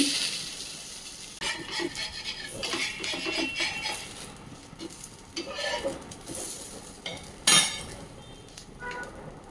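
A spatula scrapes and taps against a hot tawa as a dosa is flipped, soft metallic scraping and faint sizzle with one sharper clank near the end, fairly quiet and without talk.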